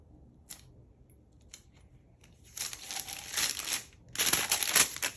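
Paper peeled off a still-hot sublimation-style print, heard as two bursts of dry crinkling and tearing rustle, close and fairly loud, after a few faint taps and quiet pauses.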